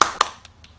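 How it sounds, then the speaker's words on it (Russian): A commentator claps during a broadcast of an esports match between Virtus.pro and SK: two sharp, close claps followed by two fainter ones. "Тоже аплодирую просто."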